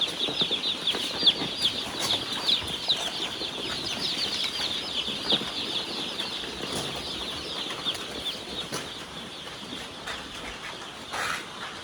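Chicks in a carton cheep continuously in a dense, high-pitched chorus close by, with scattered rustling and soft bumps as they are counted.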